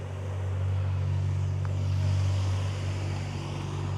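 A Peugeot Sport car covered in stickers drives out of a hot rod garage, its engine a steady low drone that swells and fades, with no talk.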